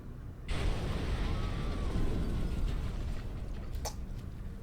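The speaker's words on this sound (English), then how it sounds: "An explosion, but not one of ours." A deep, muffled explosion from the video game Mars: War Logs rolls in suddenly and lingers as a sustained low rumble that slowly fades, heard alone.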